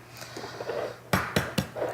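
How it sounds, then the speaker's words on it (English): A restaurant wok is heated with a little oil before frying an egg, with three sharp metallic clanks of pan and utensil in quick succession and softer sizzling and scraping around them. "So the first thing here, we heat up the wok, we'll put a little bit of oil in."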